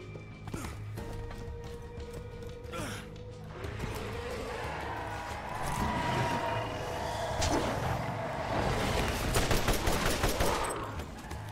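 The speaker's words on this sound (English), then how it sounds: "Good use of a grenade there." Gunfire crackles and a grenade explosion booms in the Borderlands video game, set in arid hills, with sustained rapid shots and a loud burst that blend into a dense, continuous battle din.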